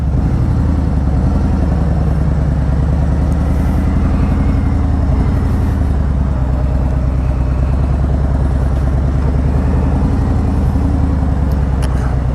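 A Harley-Davidson Road Glide motorcycle's engine runs loud and close throughout, a constant heavy rumble with some clattering texture and no voices over it.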